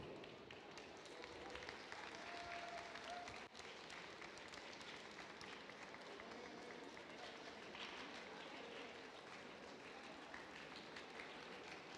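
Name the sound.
applause for Line Follower Turbo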